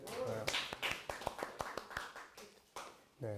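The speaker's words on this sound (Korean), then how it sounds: "박수 한번 하겠습니다." A small audience at a Korean leadership lecture claps for a participant, a handful of separate sharp claps spaced irregularly and fairly faint, with a voice briefly audible at the start and end.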